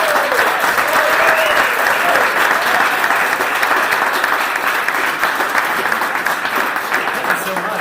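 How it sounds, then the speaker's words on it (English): Warm, sustained applause from a panel-talk audience on vocational education and climate change, loud and dense throughout, many hands clapping steadily with a faint crowd murmur beneath. "can you give me a very warm applause"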